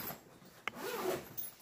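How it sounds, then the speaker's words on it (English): A zipper is drawn open all the way around a padded carrying bag for a mini photo booth, making a close, continuous rasping run of about a second with a short tug at the start. "it unzips all the way around."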